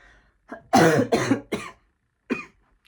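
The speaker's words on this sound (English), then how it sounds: "I just coughed actually" A sudden fit of coughing, several sharp harsh bursts in quick succession, then a pause and one more cough, close and loud.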